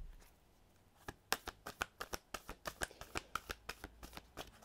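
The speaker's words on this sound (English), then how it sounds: "we're just going to get all the cards out and then we'll start to read them with tarot" Tarot cards are shuffled by hand in a steady run of crisp, close flicking snaps that start after a quiet second and continue evenly, with no talking.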